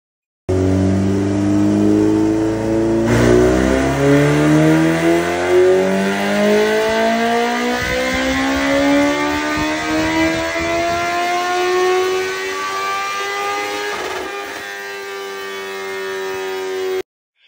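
A 2004 Suzuki GSX-R 1000 sport motorcycle revving on a dynamometer, the loud engine tone climbing steadily in pitch through a long full-throttle pull, then dropping away near the end.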